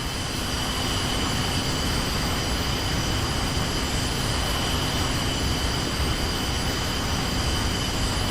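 An aircraft in the VR game DartVR roars steadily on the runway for takeoff, a loud, unbroken broadband engine drone that holds level throughout with no other sounds.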